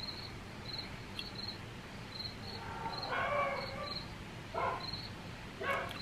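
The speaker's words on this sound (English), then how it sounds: "That way Boo would stop barking." A dog barks in a backyard, several short yips and barks in the middle distance, set against a steady chorus of chirping crickets.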